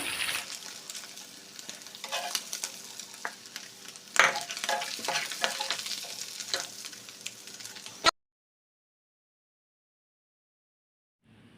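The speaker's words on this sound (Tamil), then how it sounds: "ஆயில் ஹீட் ஆனதும் இறாலை எல்லாத்தையும் எடுத்து வச்சு ஃப்ரை பண்ணிட வேண்டியதான்" Prawns fry in hot coconut oil in a pan for prawn biryani, a loud, continuous sizzle broken by scraping stirs and sharp pops for about eight seconds, then near silence.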